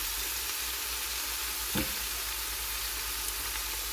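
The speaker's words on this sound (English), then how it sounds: "We can definitely just stir and make sure all of this oxtail is getting sauteed" Oxtail sautéing in browning butter in a hot pot gives a steady, close, dense sizzle throughout, with one brief scrape of stirring partway through and no talk.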